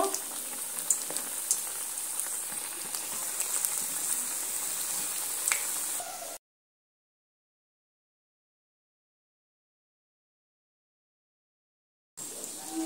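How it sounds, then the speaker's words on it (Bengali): Egg and gram flour snacks deep fry in hot oil with a steady, crackling sizzle close by; the bubbling cuts out to silence midway and then resumes. "এবার আমি এখান থেকে একে একে এইভাবে তেলের মধ্যে দিয়ে সুন্দর করে ভেজে নেব"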